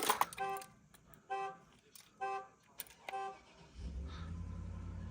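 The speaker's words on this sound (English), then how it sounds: "the horn goes off." A locked truck sounds a security alarm when a Warmcarnow remote start is tried: several rhythmic horn honks sound in bursts, then a low engine rumble rises near the end.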